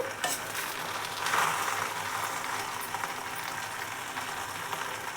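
Gongura (sorrel) leaves for an Andhra-style roti pachadi fry and sizzle in a pan while being stirred, a steady, close hiss with scraping stirs and no talk.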